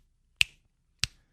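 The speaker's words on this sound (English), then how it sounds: "snap your fingers" Two crisp, close finger snaps about half a second apart, each sharp and isolated against near silence.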